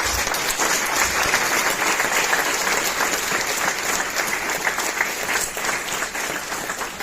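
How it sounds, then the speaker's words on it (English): Sustained audience applause fills the hall at a disability rights advocates' conclave, a dense, loud, even wash of clapping that stays steady throughout and eases only slightly toward the end, with no voices over it. "bigger round of applause."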